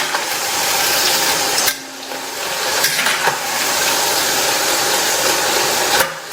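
Food frying in oil in a pan on a medium flame while being turned over, part of a tomato and snake gourd lunch; steady crackling fry noise fills the clip, broken by a short pause and a few stirring scrapes, with no talk.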